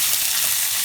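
Chopped onions sizzle in hot oil, a dense, loud, steady hiss of frying with no break, close up.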